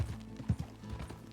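Horse hooves clip-clop in a quick, soft rhythm in the video game Red Dead Redemption 2, a brief burst of close muffled steps.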